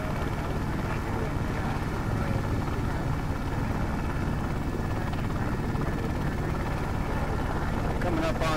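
A helicopter flies over Los Angeles rail yards at about 550 feet and 110 knots, its steady, loud rotor and engine roar filling the cabin throughout, with voices talking over the drone.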